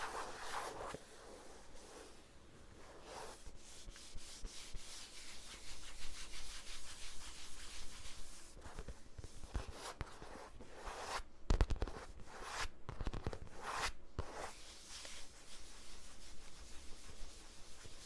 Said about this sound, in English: There's also sort of scratching and shuffling against surfaces.